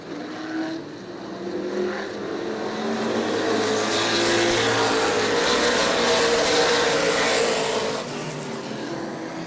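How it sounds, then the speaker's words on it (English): Race cars at New Smyrna weekly racing roar down the straightaway, engines screaming loud and building as they pass, a sustained blare with no talk. "These big old motors on these cars screaming down the straightaway"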